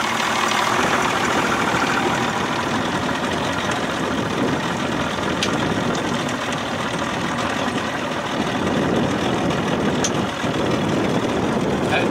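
A 1992 Johnson 60 hp outboard motor idles loudly and close by with an even, continuous rumbling drone and a faint knocking texture throughout, with no talking.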